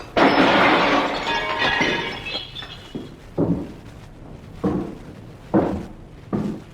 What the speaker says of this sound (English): The large mirror over the sideboard suddenly shattered.